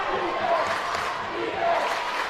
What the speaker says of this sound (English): The Red Dragon crowd going crazy here inside George Washington High School